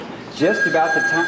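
A telephone rings during a 1993 dinner-theatre stage play, a thin steady ringing tone running beneath an actor's spoken line.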